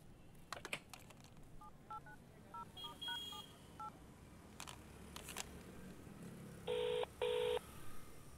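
A telephone is dialed in a Tamil film scene, giving a quiet run of short keypad tones that is followed by two longer, louder beeps over low room noise.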